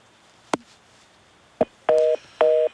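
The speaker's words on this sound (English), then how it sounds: "Well, we just lost Wayne. His phone cut" A telephone call is cut off with a couple of sharp clicks, and then two short bursts of a steady dial tone sound clearly. There is no talking.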